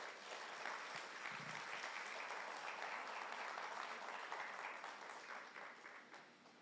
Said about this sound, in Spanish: Le damos un aplauso a nuestro Señor Jesús.